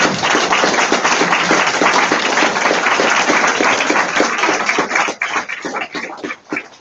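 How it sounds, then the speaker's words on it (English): A lecture audience gives a final round of applause for David McNeill after his talk on Fukushima three years on, dense steady clapping that fills the room and then thins into scattered claps at the end. "Let's give one big final round of applause to David McNeill."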